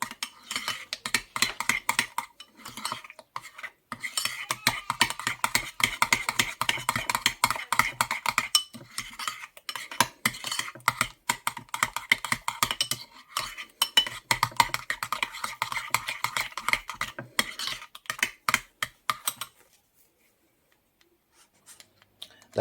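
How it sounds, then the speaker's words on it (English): A spoon stirs homemade McDonald's-style Mac sauce with onion and garlic powder, making rapid, repeated scrapes and clinks against the bowl for a long stretch before going quiet. "a quarter of a teaspoon of granulated dried onion powder, a quarter of a teaspoon of garlic powder, and give that sauce another stir"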